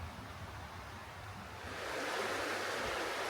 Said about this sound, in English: it's nice to just stand here and listen to the river